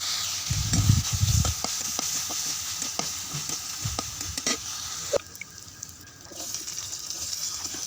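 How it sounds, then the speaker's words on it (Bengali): Meat frying in a pan and stirred with a spatula for a winter vegetable curry, a soft sizzle broken by irregular scraping taps and one heavier knock, fairly close with no talk. "এখানে মাংস ভেজে নিচ্ছি"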